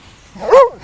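A dog gives a single short bark or yip partway through, fairly close, over a quiet outdoor background with no talk.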